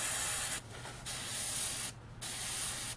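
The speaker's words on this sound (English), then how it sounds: "you can spray just a little bit through it" Hissing bursts of a paint spray gun, close and sharp, cut by two short pauses into three sprays while painting a 1965 Dodge Coronet.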